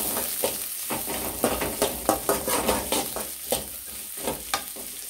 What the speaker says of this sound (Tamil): நல்லா வதக்கலாம்.